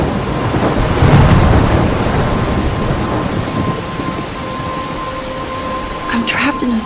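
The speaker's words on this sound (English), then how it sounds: "I'm trapped in a storm?" Heavy rain pours steadily while thunder rumbles loudly in a thunderstorm in the video game Life is Strange, with a low roll peaking early and a constant wash of rain throughout.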